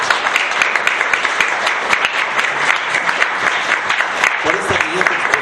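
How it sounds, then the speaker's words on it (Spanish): An audience gives loud, steady applause after a conference talk on Mexican women, with a dense wash of clapping that holds for the whole stretch. "Jóvenes, si me lo permiten, un fuerte aplauso a la doctora por esta"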